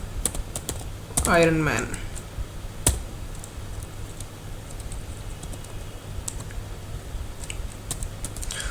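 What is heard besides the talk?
typing on a computer keyboard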